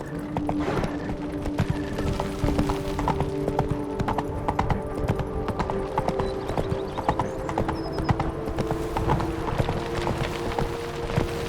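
Horse galloping in The Witcher 3, a steady rapid clip-clop of hooves on ground that continues throughout with a faint mechanical rattle of tack underneath.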